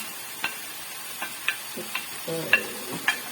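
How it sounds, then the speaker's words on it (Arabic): Chopped green and red peppers fry in a pan with a soft steady sizzle, punctuated by light, irregular clicks and taps as they are stirred; no one speaks. "نخلي كلشي يتشحر يتقلى مزيان"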